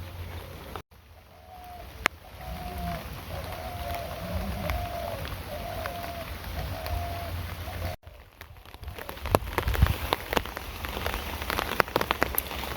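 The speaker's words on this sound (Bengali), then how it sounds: "কচু পাতায় জল টলমল টলমল করতেছে আর বৃষ্টি পড়তেছে" Rain falls on taro leaves outdoors in a steady dense patter with scattered louder drops, growing heavier toward the end.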